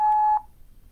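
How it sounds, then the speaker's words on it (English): A single clean electronic tone, the voicemail recording beep, sounds steady and clear for under half a second and then cuts off into quiet line noise. "At the tone, please record your message."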